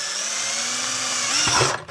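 A power drill whines at a steady high pitch, bites through material, then slows and stops near the end, loud and close.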